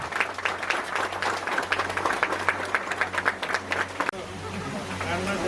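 A crowd claps in rapid, dense applause for several seconds at a student awards ceremony in Jharkhand, then it cuts abruptly to a steadier background murmur.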